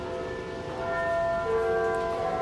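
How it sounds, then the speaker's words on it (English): Bells ring with sustained, overlapping metallic tones that hum and shimmer at moderate loudness, a second pitch entering halfway through, with no talk over them. "Oh, the bells."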